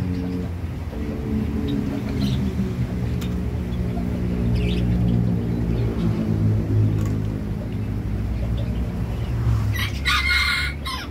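Red junglefowl kept in a pen crow over a continuous murmur of other birds and fowl, the calls drawn out and fairly near, with no talking.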